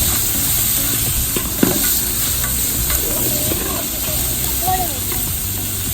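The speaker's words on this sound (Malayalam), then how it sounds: "എന്നിട്ട് നല്ലവണ്ണം ഇളക്കുക." Sliced onions sizzle steadily in a pot for Kozhikode dum biryani, a continuous broadband frying hiss with occasional scraping clinks of a spoon as they are stirred, close and fairly loud throughout.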